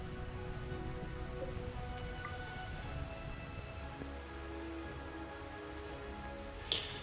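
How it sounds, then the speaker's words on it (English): Steady rain falls in the RimWorld Biotech colony-sim game, a continuous even patter throughout with a brief sharper tap near the end and no talking. "Rain's come out."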